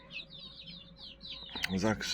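Hens feeding on scraps of bacon fat give soft, faint clucks and chirps, then a louder burst of clucking near the end, under quiet background noise.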